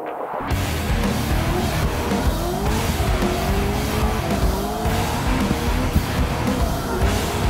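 Drift cars driven by the Hot Wheels Stunt Team slide around Queensland Raceway, engines roaring steadily with continuous tire squeal and skidding, loud and sustained throughout with no talking.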